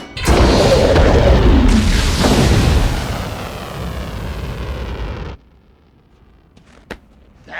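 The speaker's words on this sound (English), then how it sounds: "Launch the missile now!" A missile launch in the animated film The Iron Giant roars out as a loud, broad rumbling blast that holds for several seconds, then drops off sharply to near silence with a couple of faint clicks.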